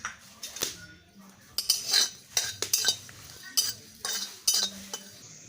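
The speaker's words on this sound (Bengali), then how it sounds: "এখন কড়াইয়ের মধ্যে মৌরি সসগুলো ভেজে নেব" Fennel seeds frying and being stirred in a kadai, heard as a series of metallic scrapes and clinks of a spatula against the pan in an uneven rhythm, close and fairly quiet, with no talk.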